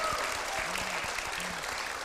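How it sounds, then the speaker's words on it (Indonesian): A studio audience at the game show I Am President breaks into loud, sustained applause, dense clapping that continues evenly throughout with no voices over it. "Tepuk tangan yang meriah untuk I Am Presiden."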